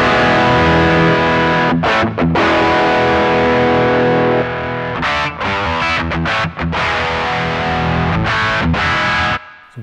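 A heavily distorted electric guitar plays through a ZUTA LA25 MKI amp with its bite control engaged, loud and dense sustained chords broken by short choppy gaps before stopping abruptly.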